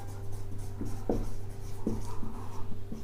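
Marker or chalk writing on a classroom board during a chemistry lesson, a series of short scratchy strokes and taps over a steady low hum, close and clear.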